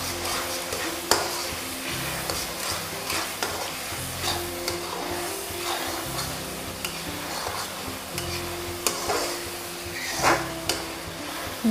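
Garlic, green chili and ginger paste frying in a pan, giving a continuous sizzle with light stirring scrapes and occasional soft pops, close and steady with no talking.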